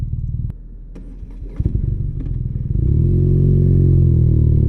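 A BMW R NineT motorcycle's engine is cranked with a few clattering starter bursts, then catches and settles into a loud, steady, close running rumble.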